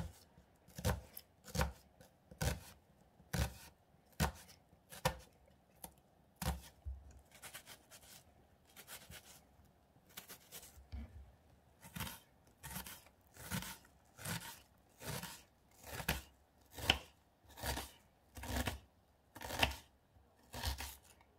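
Knife chopping through an onion on a cutting board, about twenty-five sharp, even thumps spread steadily across the clip at close range, with no voices.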